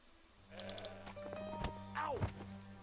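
A goat in the video game Broken Sword 5 bleats in a wavering, nasal cry, followed by a second sliding bleat, fairly close against a low steady game background.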